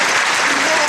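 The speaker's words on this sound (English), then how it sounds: "If I could beg you for just a quick round of applause for 2 of the most important mothers." Graduation audience applause honouring two mothers, a loud and dense burst of clapping from a large crowd that fills the whole brief moment.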